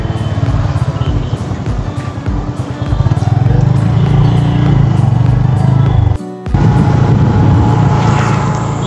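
A motorcycle rides across the Haroa railway level crossing, its engine loud and close in a continuous roar with wind buffeting, broken by a brief dip before the drone resumes.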